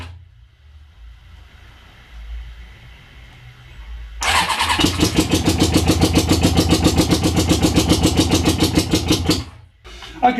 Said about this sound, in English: So I reckon it's time to start the bike.